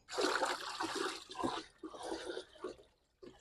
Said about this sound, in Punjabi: ਘੜਾ ਆਪਣਾ ਪੂਰਾ 4 ਘੰਟੇ ਭਿੱਜ ਗਿਆ ਤੇ ਇਹਨੂੰ ਆਪਾਂ ਹੁਣ ਕੱਢ ਲਾਂਗੇ